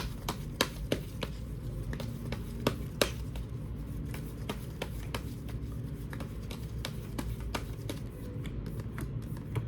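Tarot cards are shuffled by hand in a repeated run of crisp, quick snaps and riffles. The sound is quiet and close, with a soft background hum and no talking.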